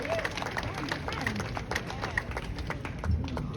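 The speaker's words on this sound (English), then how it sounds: "let's give a round of applause for those academic excellence 4x4" Audience applause at an eighth grade promotion ceremony, a steady wash of clapping from a seated crowd with scattered cheers and voices mixed through it.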